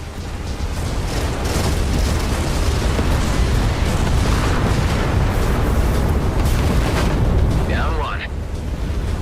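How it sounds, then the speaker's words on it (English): Torpedoes exploding in the space combat game Everspace 2, a dense continuous roar of blasts and rumbling booms with a whooshing sweep near the end. "Adam, there is a barrage of torpedoes incoming. Intercept as many of them as you can, or we won't withstand the combined impact"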